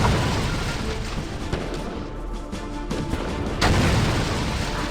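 Rumbling battlefield barrage from the military shooter game Heavy Fire: Afghanistan, with dense overlapping booms and crackling gunfire under a convoy firefight, continuous and loud with a brief dip before heavier blasts return.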